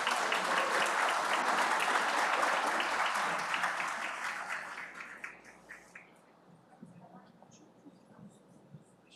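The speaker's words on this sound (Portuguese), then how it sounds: "Uma forte salva de palmas a todos vocês." Strong applause from the audience at a ceremony honouring a vector-control division in Fortaleza, dense clapping that holds for several seconds and then fades, leaving scattered late claps and faint room noise.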